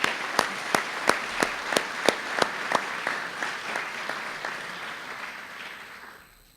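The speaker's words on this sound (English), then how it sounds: "So let's give the foundation also a round of applause." Applause from an audience at a university opening day address, a dozen sharp rhythmic claps standing out over a steady wash of clapping that swells, then fades away near the end.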